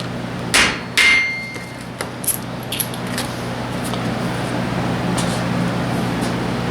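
A length of fuel line used as a punch is struck with a hammer to knock bolt holes through a handmade gasket: two sharp, loud strikes, then a few lighter taps over a steady background hum.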